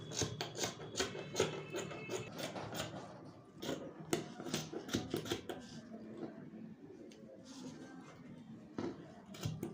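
Fabric is cut for a cowl sleeve, giving quiet, irregular snips and rustling scrapes in uneven bursts, close by, with no talking.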